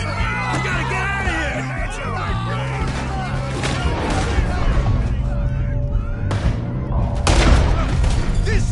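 Gunfire in the video game Red Dead Redemption II, with scattered shots and booms under shouting and game music, a loud, busy action scene with voices throughout.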